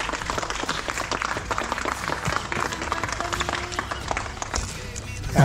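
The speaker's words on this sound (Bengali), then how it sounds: "সবাই হাততালি, জোরে হাততালি, জোরে জোরে" A family claps together at a three-year anniversary cake cutting, a soft patter of hands that carries on for several seconds at modest volume.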